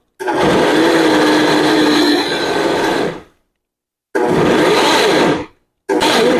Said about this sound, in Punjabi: ਮਿਕਸੀ ਨੂੰ ਥੋੜਾ ਥੋੜਾ ਬੰਦ ਕਰਦੇ ਰਹੋ